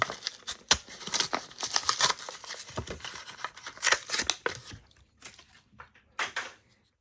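A bent 1990 Hot Wheels blister card package is cut and torn open, producing a run of sharp snips, crinkling plastic and papery tearing in close bursts that stop and start, then a pause and a final few cuts.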